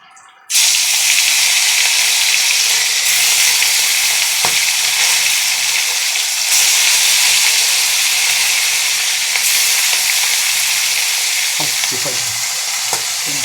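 Food drops into oil heated over a gas flame and sizzles loudly and steadily after a sudden start. The hiss stays close and constant, with a few soft stirring knocks near the end.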